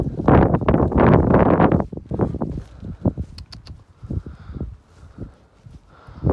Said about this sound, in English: It is really cold and windy today.